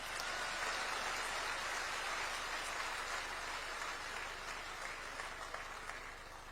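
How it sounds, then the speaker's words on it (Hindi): Sustained crowd applause at a political rally held by a chief minister, a steady wash of clapping that is moderately distant and holds evenly for several seconds with no voices over it. "एक बार उसके नाम ताली बजा दीजिए"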